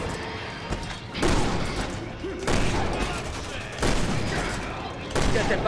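The Elephant Killer pistol in Resident Evil 6 fires heavy, booming shots at regular intervals, each blast followed by a rumbling tail, with a voice talking in between.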